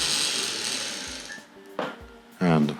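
Tri-ang R.55 single-ended model diesel locomotive with two motors, whirring and buzzing steadily close by without moving, then fading as a person begins to speak.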